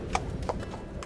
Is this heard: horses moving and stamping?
yes